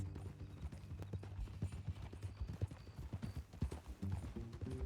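Rhythmic clip-clop of horse hooves from a ride in the Red Dead Redemption 2 video game, steady and fairly close, with low background rumble and no talking.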